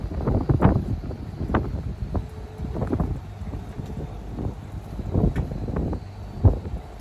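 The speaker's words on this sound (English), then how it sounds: "It's definitely warmer than it was Saturday, but it's a lot more windier" Gusty wind outdoors on a cold day, buffeting the microphone in irregular low rumbling bursts that rise and fall over a quieter background.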